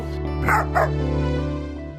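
A dog gives a pair of quick barks early on, sitting under a steady musical background that carries on to the end.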